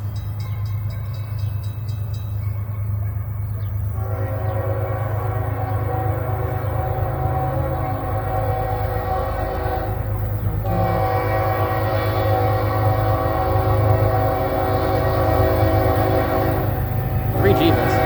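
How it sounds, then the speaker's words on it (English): A train passes close by at a railway museum, sounding a long, loud multi-tone horn that blares steadily for many seconds over a low rumbling engine drone, with only a brief break midway. "Unknown train."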